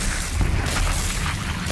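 A bomb detonating in the virtual-reality battle royale Population: One, a deep low rumble sustained under a dense, noisy game mix with no clear separate blasts.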